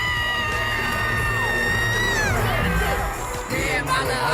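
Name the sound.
concert crowd cheering at a show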